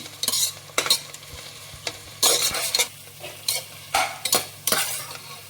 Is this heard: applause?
no